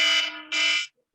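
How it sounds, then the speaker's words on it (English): A phone alarm set as a homework reminder sounds in loud, piercing electronic bursts: two long blasts separated by a brief dip, a short silence, then a third blast beginning, with no one talking. "That was actually my homework alarm."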